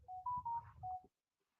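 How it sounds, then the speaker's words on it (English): A phone notification chime plays alone: a short run of four clear electronic tones stepping up and back down over about a second, then silence. "I'm going to turn off that notification"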